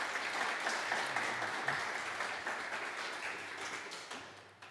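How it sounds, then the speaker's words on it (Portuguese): A church congregation claps together, a dense wash of applause that holds steady and then gradually fades, with no talking. "Você pode aplaudir Jesus por isso?"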